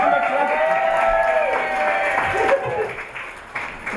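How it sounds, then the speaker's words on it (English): Audience applause for a comedy performer at a live comedy show, a steady wash of clapping with some crowd noise under an announcer's voice, thinning out toward the end. "Come on, give him a clap"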